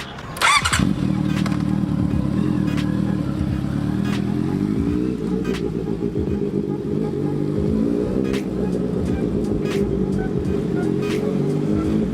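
A Honda CBR650R SP sport motorcycle starts with a sharp burst, then its engine runs loud and close. The note rises and falls through a series of revs and gear changes, with some faint talking beneath.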